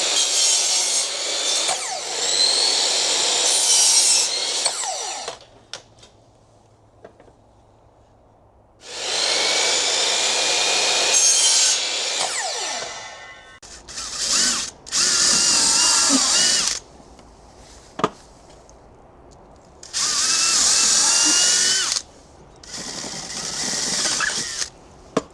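A power drill drives screws into wood while building a garden shed, with several loud, sustained whirring bursts of a few seconds each, separated by pauses.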